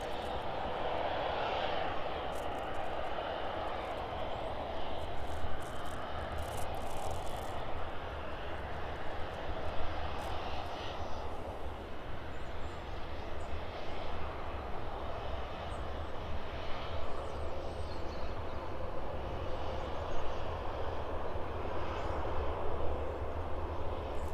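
Boeing 737-800 airliner, nine years old, taxiing toward the start of runway 09 at an airport, its engines a steady, moderately distant jet roar that holds level throughout.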